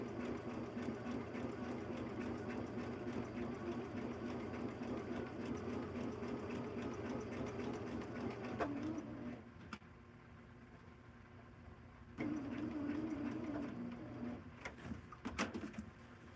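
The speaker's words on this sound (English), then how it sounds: "Don't want to sew over a pin, and then just sew on the line." A sewing machine runs steadily along a marked line, its continuous hum dipping briefly before resuming, while pigeons coo faintly in the background.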